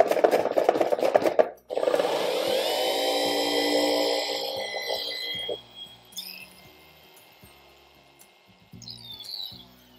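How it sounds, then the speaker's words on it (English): A polishing pad washer runs with a steady mechanical whir and a rising whine for several seconds, loud and close, then spins down into softer rattles and scattered clicks after a brief scraping burst at the start. "So that's a pad washer."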